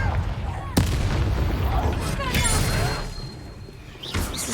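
A Confringo fire spell blasts in the video game Hogwarts Legacy, a sharp burst followed by a loud, sustained rumble of crackling combat noise, with further impacts near the end.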